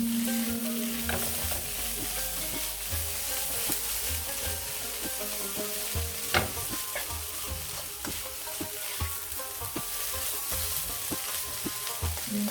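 Spices and chili sauce are stirred together in a sizzling pan for chimichangas, with a steady close fry and repeated scraping strokes and no one speaking.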